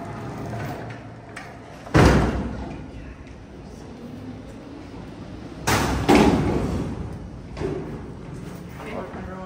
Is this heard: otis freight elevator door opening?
yes